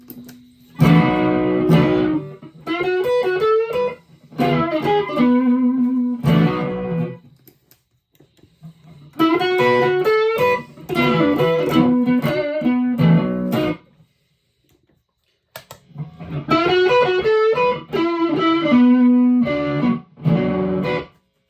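Electric guitar on the neck pickup runs through OD808, TS9 and Green Rhino overdrive pedals into a Marshall amp, all knobs at noon. Loud, driven, sustained chords and riffs play in three phrases with short silent gaps between them.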